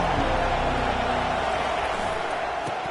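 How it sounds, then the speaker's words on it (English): A dense, steady crowd roar fills a football stadium, loud and unbroken from start to finish, with no clear voice rising above the mass of noise. "This crowd bringing the energy and noise early."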